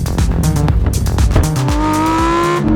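2018 Lamborghini Huracan Performante Spyder with its V10 engine driving with the top up, loud and close, revving through harsh rising and falling engine tones and a gearshift before settling into a steady high drone.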